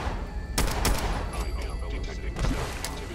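Rounds fired in the video game Fallout 4 crack out as a few loud, rapid bursts over a steady game background.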